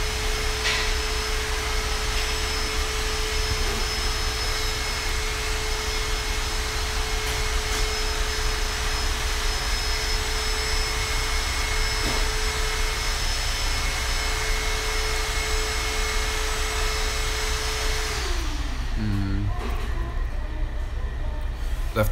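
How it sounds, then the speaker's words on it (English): A hair dryer left running indoors makes a steady, loud whooshing drone with a constant tone, continuing unchanged for about eighteen seconds and then winding down and cutting off near the end. "Left the hair dryer on."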